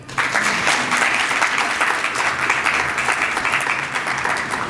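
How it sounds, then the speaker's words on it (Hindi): A church congregation at a Christmas Day service claps together in dense, steady applause, loud and continuous throughout with no speech over it. "घराने के लिए तालियां बजाएं।"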